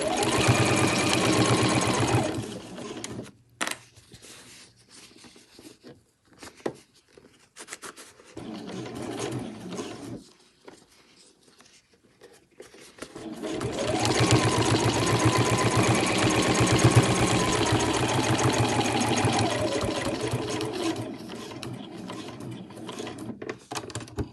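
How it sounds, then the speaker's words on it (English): A domestic sewing machine with a normal presser foot stitches around the edges of a pom-pom cushion cover, running in steady whirring bursts with a pause and quieter handling between runs, close and loud with no talk. "I'm able to sew this with a normal presser foot, keeping those raw edges matching there"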